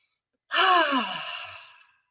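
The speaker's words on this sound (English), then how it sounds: "We may just start with like a cleansing breath, meaning I breathe in" A single slow cleansing breath, drawn in and let out as a soft audible sigh that swells quickly and fades over about a second and a half, close and alone.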